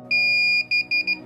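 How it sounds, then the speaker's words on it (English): A DJI FPV remote controller's high electronic beep holds steady for about half a second during pairing, then breaks into three quick shorter beeps, clear against a low background hum. "there's a beeping noise"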